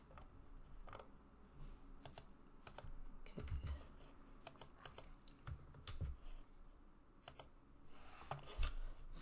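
Username and password being typed on a computer keyboard, quick soft key clicks in irregular bursts, close and fairly quiet, with no talking.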